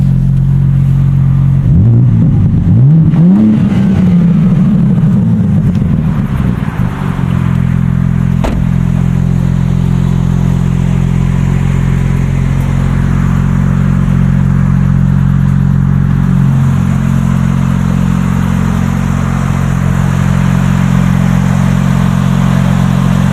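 A BMW M4 CS engine idles with a loud, steady, deep drone, with one brief rising rev near the start before it settles back to a constant close hum.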